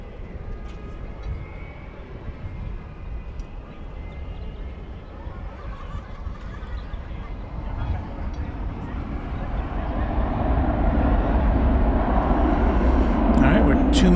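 American Airlines A321 jets arriving at DFW Airport: a steady low jet roar that builds louder toward the end as an aircraft nears, with a voice talking over it throughout.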